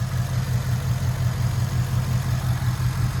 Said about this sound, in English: Because it's great to have on this 5-liter modified,